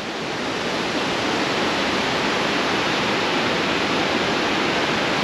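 Steady broadband rush of a waterfall in Laos, a constant dense roar of falling water with no breaks, close and fairly loud throughout.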